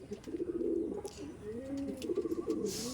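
Pakistani teddy pigeons coo near at hand in repeated rolling, throaty phrases that swell and fall, separated by short pauses, with faint background clicks and a brief rustle at the end.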